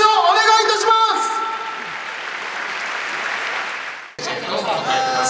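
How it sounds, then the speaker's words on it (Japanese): Audience applause fills the arena for two boxers after a sparring bout, a dense crowd clap that swells, holds steady, then cuts off, with voices talking over it at the start and end. "リバイスの両選手に盛大な拍手をお願いいたします"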